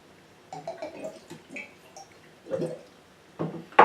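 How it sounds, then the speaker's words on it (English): Ancient Age bourbon glugs and drips through a plastic pour spout on the bottle, a few short liquid bursts with pauses between them, close and fairly quiet, and no talking. "Nice plastic pouring item here at the top. Keep it from chug-a-lugging too much."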